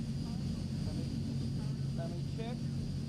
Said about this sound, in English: Planes are louder than me.